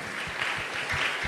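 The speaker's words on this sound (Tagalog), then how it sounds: "Bakit po mahina yung palakpak natin?" A church congregation claps together in a short burst at a preaching service, steady rhythmic palms with soft low thumps under the room's ambience, fairly quiet and a little distant.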